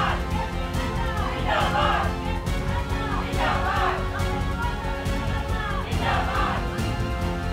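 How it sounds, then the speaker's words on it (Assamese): A crowd of BJP party workers at Bajpayee Bhawan in Guwahati chants slogans in loud rhythmic bursts over continuous crowd noise during a victory celebration. "বিজেপি জিন্দাবাদ ধ্বনিৰে মুখৰ হৈ পৰিল বাজপেয়ী ভৱন"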